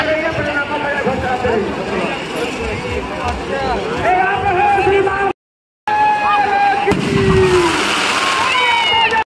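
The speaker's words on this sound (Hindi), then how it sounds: "आतिशबाजी" Fireworks at a Dussehra festival crackle and whistle in a dense, continuous barrage, loud and close, with a brief silent gap partway through before the bursts resume.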